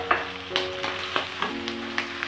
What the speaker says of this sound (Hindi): प्याज को थोड़ा सा सौते होने देते हैं चिकन के साथ